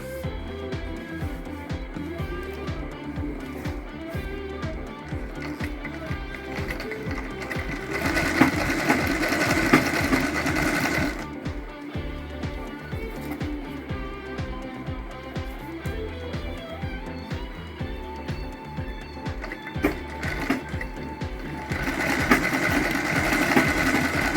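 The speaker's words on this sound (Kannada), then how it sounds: "ನಿಧಾನಕ್ಕೆ ಹೀಗೆ ನೋಡಿಕೊಂಡು ನೋಡಿಕೊಂಡು ಸ್ಟಿಚಸ್ ಹಾಕಬೇಕು" Sewing machine stitching a sleeve onto a ready-made kurti top, running in steady continuous bursts with a rhythmic mechanical whir, near and fairly loud, briefly pausing and restarting, with no talk over it.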